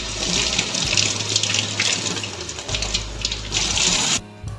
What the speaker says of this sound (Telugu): డ్రై ఐస్ మీద వాటర్ పోస్తుంటే ఇలా స్నో వస్తుందని ఆడుతూ ఉన్నారు